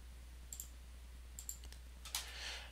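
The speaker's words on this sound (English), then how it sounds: "And I'll click Finish." Computer mouse clicks at a desk while setting up software: a few sharp, close clicks, some in quick pairs, spaced apart in a quiet room with a low background hum.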